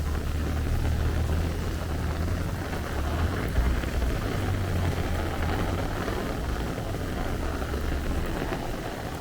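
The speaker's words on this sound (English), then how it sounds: "And look at this rain, man. It is really coming down." Heavy rain falls on a street in Astoria, Queens, as a dense, continuous hiss with a low rumble underneath, steady and enveloping throughout.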